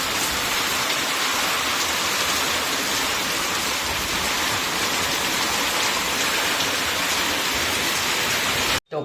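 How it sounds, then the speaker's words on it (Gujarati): Heavy rain pouring down in a dense, steady roar, close and loud without a break, cutting off abruptly at the very end. "આ વરસાદ ખેડૂતોને નુકસાન પહોંચાડતો ભાઈ"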